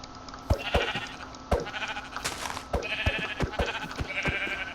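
Sheep bleat in the video game Minecraft among sharp repeated hit and click sounds, several short nasal bleats close up, with no one talking over them.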